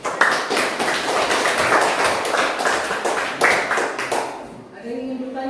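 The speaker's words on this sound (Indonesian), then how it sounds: "Beri tepuk tangan dulu kelompok saya." A classroom group claps for itself after a presentation, a brisk patter of hands with distinct individual slaps that fades out near the end, followed by a voice speaking.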